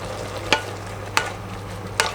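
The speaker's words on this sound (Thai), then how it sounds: "แล้วก็คลุกเคล้า ให้เข้ากันนิดนึง" A Thai Isan beef curry with dill and roasted rice powder is stirred in a pot, with three distinct spoon scrapes at regular intervals over a low simmering hiss, close and fairly loud.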